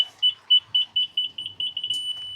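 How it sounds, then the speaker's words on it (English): A series of short, high electronic beeps from a retrofitted car parking sensor, spaced irregularly at first and then quickening into a rapid run, close and clear with no talk. "we've got the bleep, bleep, bleep of the alarm saying it's working"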